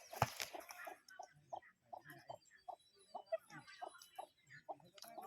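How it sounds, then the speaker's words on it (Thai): Chickens on a rural farm in Laos cluck in a series of short, repeated calls, fairly close, with an early louder burst and some background noise between the clucks. "ไก่พ่อใหญ่ก็หลาย"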